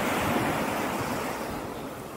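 Sea waves washing onto a rocky shore in sunny weather, a continuous broad surf roar close by, fading slightly toward the end, with some wind.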